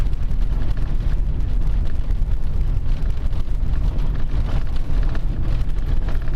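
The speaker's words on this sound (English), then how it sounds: "All vans sound rattly on really bad roads." A lifted van judders over a rough, bumpy desert road. Dense, loud rattling and thumping runs continuously from inside the cabin, layered over a low road rumble, with no voices.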